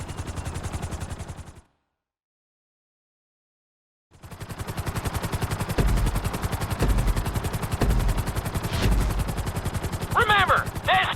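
Rapid chopping rotor pulses of a helicopter in GTA 5 flight school, broken by a few seconds of silence, then resuming loudly with sharp bangs and a brief rising electronic tone near the end.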